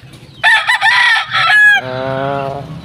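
White backyard gamefowl roosters crow loudly and close by, with a drawn-out crow followed by another, while clucking hens and more birds call in the background.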